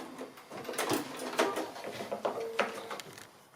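A sewing machine stitching a seam on a small Christmas stocking, a quiet, close run of rapid mechanical clatter with brief pauses and soft knocks, no voices.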